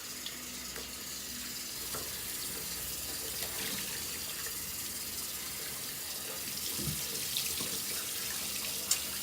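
A cloth rag rinsed under a running tap, a steady broadband rush of water with a few splashy bursts, close and continuous with no talking.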